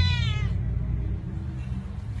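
A pet cat gives a short meow at the start, the rest quieter with a low rumbling background and no speech.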